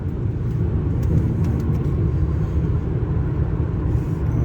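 A 2016 Audi A6 quattro with a 2.0 diesel engine and semi-automatic gearbox under full-throttle acceleration, heard from inside the cabin as a steady loud low rumble with road noise and no voices.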